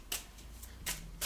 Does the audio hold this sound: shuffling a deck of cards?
yes